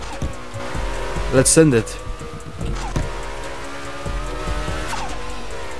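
A McLaren Senna GTR driven hard in a racing game, engine droning with a brief sharp tire squeal and skid, while someone talks over it.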